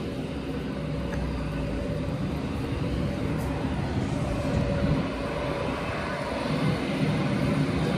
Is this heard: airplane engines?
yes